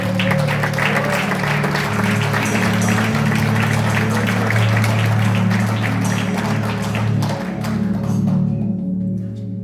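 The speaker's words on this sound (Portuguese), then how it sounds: "Aplaudam ao Senhor, porque é para Ele." A church congregation applauds together, sustained loud clapping from many hands under a steady musical drone, fading at the very end.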